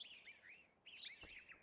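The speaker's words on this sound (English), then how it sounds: "Tweety birds." Bird chirps in the Wii Fit Plus video game, two quick bursts of bright warbling tweets, faint and clear with no talk.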